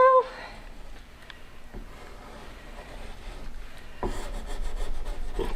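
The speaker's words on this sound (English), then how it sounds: "I will try the scraper" A hand scraper rasps against a surface overhead in repeated rubbing strokes, growing louder and rougher toward the end.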